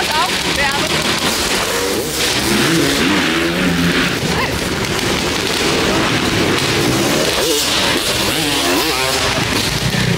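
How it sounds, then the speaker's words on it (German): Freestyle motocross bikes rev their engines loudly and continuously while warming up and circling at a Night of the Jumps event in Berlin, with rising and falling engine pitch and a dense, crowded roar throughout. "Und dann fahren wir hier ihre Runden auf und ab, um das Motocross aufzuwärmen."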